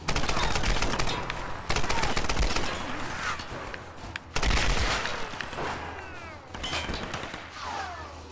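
Loud, dense gunfire rattles through Tomb Raider (2013) in a chaotic firefight, with rapid bursts layered over continuous game noise and explosions with almost no letup.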